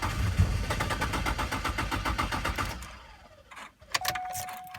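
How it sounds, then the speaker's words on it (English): A Chevrolet Trailblazer inline-six engine runs close by with a steady pulsing idle for nearly three seconds and then cuts off, leaving quieter clicks and a faint tone. "we're just going to turn the engine and let the engine consume the fuel out of the fuel lines"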